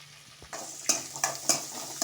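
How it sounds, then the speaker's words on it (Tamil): Sliced onion with mint, coriander and curry leaves sautés in a pan: a steady low sizzle broken by several sharp scraping strokes of a spoon stirring the mixture, close and fairly clear, with no voices. "நல்லா வதக்கிக்கலாம்"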